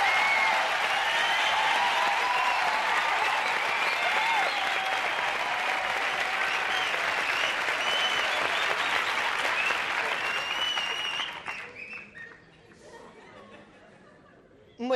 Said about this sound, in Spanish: Vamos a animarle con un fuerte aplauso.